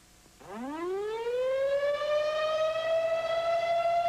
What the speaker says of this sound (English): Waiting until you hear the siren to answer these questions could be too late.